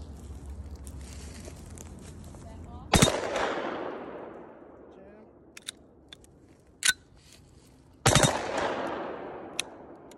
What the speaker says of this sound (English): So this is the long barrel 10 inch 357 Magnum on the full auto Desert Eagle, aka Thunderbird.